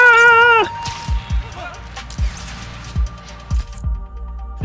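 A lost cat in the Marvel's Spider-Man: Miles Morales video game lets out a clear, close meow with a rising harmonic tone at the start. Then come repeated low thumps and game effects with faint background voices.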